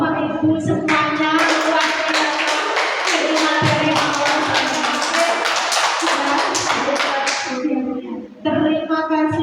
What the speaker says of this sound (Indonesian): Tepuk tangan untuk Bapak Ibu semuanya.